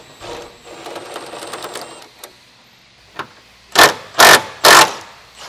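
A wrench loosens 19 mm nuts on the subframe studs of a Nissan G35 sedan, with soft rattling clicks at first, then three sharp loud ratchet bursts close by.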